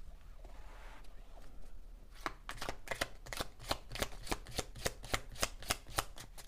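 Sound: shuffling oracle cards

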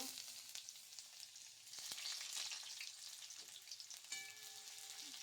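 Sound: frying paneer in a little oil

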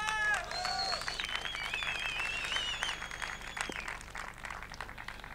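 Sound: audience applause

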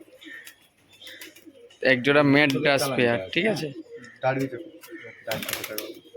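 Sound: domestic pigeons cooing

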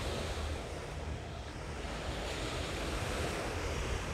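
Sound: sea waves

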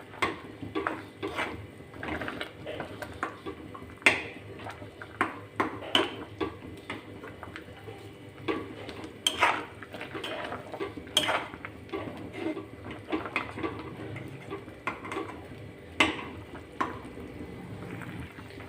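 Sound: pressing rotla with a spatula in a pan

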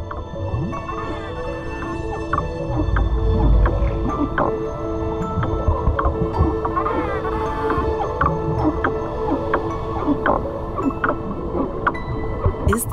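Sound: dolphin vocalizations underwater

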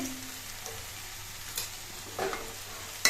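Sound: stirring banana stem curry with mustard paste in pan

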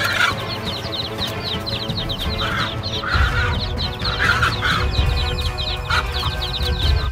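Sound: hen clucking while chasing off a hawk

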